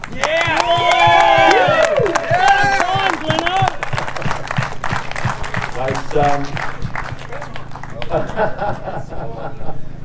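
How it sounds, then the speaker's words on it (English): A crowd at a kayak fishing tournament presentation claps and cheers for a competitor. Brisk, scattered hand claps carry on under excited voices and whoops, fairly close and lively, and ease off toward the end. "Please, a very big round of applause for Glenn Allen"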